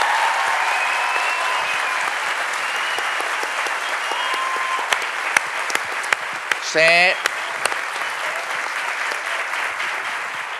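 A live show audience applauds steadily, a dense wash of clapping that carries on throughout, with a brief spoken reply in Spanish cutting through near the end.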